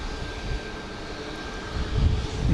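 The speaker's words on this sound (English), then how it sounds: "Southwest 48, RNAV door set, runway 13 left, clear for takeoff." A Southwest Boeing 737 MAX 8 jet takes off on runway 13 left at Dallas Love Field at night, a steady far-off engine roar that builds and grows louder toward the end.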